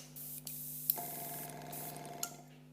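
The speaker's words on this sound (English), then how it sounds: "the compressor kicks in and fills this little tank with air" A small air compressor used for cake airbrushing switches on with a sharp click and settles into a steady, close mechanical hum as it fills its little tank with air.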